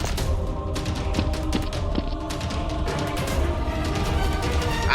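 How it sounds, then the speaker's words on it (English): Nerf guns in a staged hostage-rescue battle fire in rapid, overlapping bursts of snapping shots and thuds, a dense chaotic volley that continues throughout without speech. "Intense gunfire erupts between both sides."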